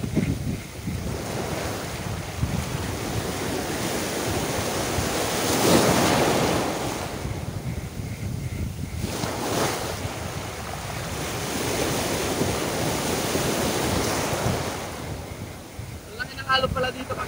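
Sea water swirling and churning along the shore at a fishing spot in Ternate, a steady surging roar of waves with heavy wind buffeting the microphone and faint voices in the background.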